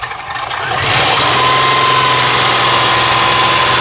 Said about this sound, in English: Did you rev it one more time?